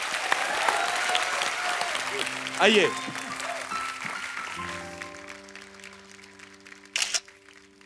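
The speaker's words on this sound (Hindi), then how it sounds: "एक सेल्फी एक बार सुनिधि चौहान और हितेश के लिए जोरदार तालियां।" Studio audience of The Kapil Sharma Show breaks into loud, dense applause that gradually fades over several seconds, with people talking over it and a short burst of laughter or cheering near the end.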